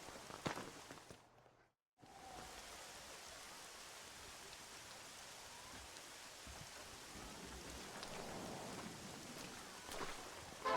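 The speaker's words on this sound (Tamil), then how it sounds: "மழை பெஞ்சுக்கிட்டே இருக்கு" Steady rainfall in the Red Dead Redemption game world, a soft, even hiss of drops with a brief dropout early on, fairly quiet and continuous.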